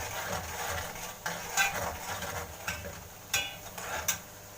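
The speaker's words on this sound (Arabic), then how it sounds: "نخليهم ريحتهم تطلع كده ياخدوا تشويحه مع البصل" Cinnamon sautéing with onions in a pot, soft sizzling under intermittent scrapes and knocks of a spoon against the pot, close and moderately quiet.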